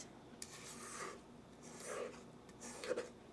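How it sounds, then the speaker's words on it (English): Spatula scraping the sides of a mixing bowl of lemon ricotta cake batter, a few soft raspy strokes, faint and close, with quiet pauses between them. "I'll give it another scraping on the sides."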